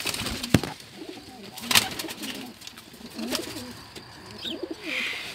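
Soft coos from an agitated male pigeon defending its territory repeat through a short stretch, mixed with a couple of sharp wing flaps or knocks and faint background noise.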